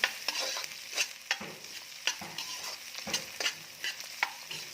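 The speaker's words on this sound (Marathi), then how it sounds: "मिरची छान फ्राय झाली की त्यामध्ये टाकायचा आहे कांदा" Green chillies frying in a pan for a tiffin potato bhaji as onion goes in, a steady sizzle broken by repeated sharp scraping stir strokes, close and moderately loud.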